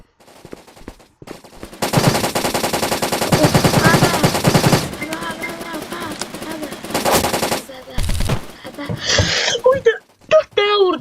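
Rapid automatic gunfire from the online video game BLOCKPOST, loud sustained bursts with a few later shorter volleys and pauses, mixed with game effects and occasional voices.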